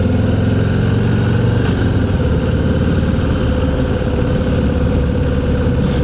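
A Harley-Davidson Low Rider ST motorcycle engine thumps steadily at low revs, a loud, close, continuous rumble with no voices.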